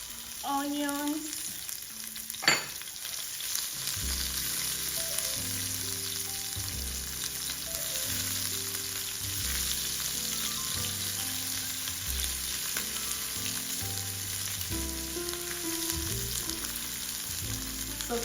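Onions frying in cooking oil in a pan, one sharp clink near the start, then a continuous sizzle under quiet background music, with light stirring noises.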